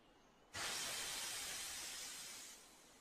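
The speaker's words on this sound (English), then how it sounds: "Thomas is wheeshing out steam." Sudden loud hiss of steam let out by the steam engine Thomas, starting abruptly and holding steady for about two seconds before tapering off, alone without voices.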